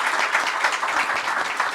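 A seminar audience on mining investment claps for the speaker Gerson in a steady, dense round of applause that carries evenly throughout.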